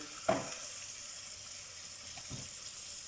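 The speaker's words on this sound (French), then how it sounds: "les légumes à revenir. Alors, on le fait revenir 5 minutes." Vegetables and coarsely chopped garlic sautéing in butter just turning brown, a soft steady sizzle with two brief knocks from a utensil near the start and the end.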